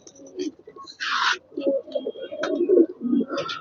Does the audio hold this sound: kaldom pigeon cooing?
yes